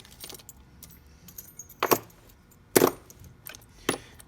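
Metal keys jangling and clinking while being sorted at a rekeying bench in a shop, several sharp bursts of jingling spaced apart over a quiet background.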